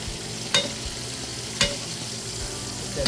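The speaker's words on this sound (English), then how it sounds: "I'm going to baste our steak." A steak sizzles steadily in a pan while being basted with butter, a constant frying hiss with a few sharp clinks of the spoon against the pan, and no voices.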